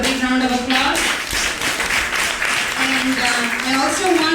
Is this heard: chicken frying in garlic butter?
no